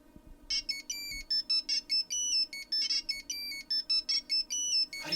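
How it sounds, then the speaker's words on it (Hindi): A cell phone ringtone plays a repeating electronic melody of short bright beeps in quick rhythmic bursts, loud and close, after a soft thud. "ये तो मेरा सेल फोन है।"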